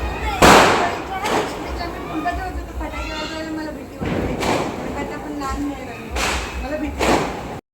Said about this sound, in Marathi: आम्ही फटाके वाजवत आहोत इथे.